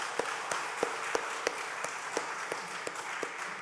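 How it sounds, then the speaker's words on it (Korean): Sparse, spaced claps from a church congregation during a Sunday afternoon service, a steady unhurried rhythm of single sharp hand claps against a soft room background. "우리 감사 박수 한번 하겠습니다."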